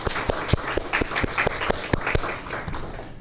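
Church congregation claps together in praise, a dense patter of hands with sharper individual claps standing out, fairly close and steady throughout.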